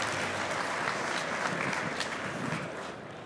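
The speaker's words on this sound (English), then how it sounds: "Let's give a warm round of applause for Marco." An audience claps steadily at a startup pitch competition event, a dense, sustained round of applause that holds evenly and then tapers slightly at the end.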